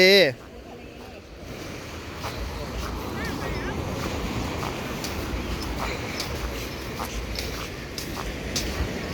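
Ocean waves washing onto a beach, a continuous loud surf roar mixed with wind buffeting the microphone, after a brief burst of sound at the very start.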